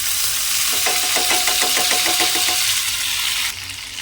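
Mustard seeds, cumin and urad dal sizzle and crackle in hot oil, with a steady frying hiss dotted by rapid popping bursts that fade toward the end.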